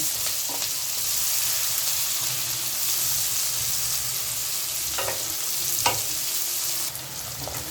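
Onions sizzling and frying in a pan while being stirred for a Bengali fish dish, a steady close crackling hiss with occasional scraping and clinking of the spatula, no voices.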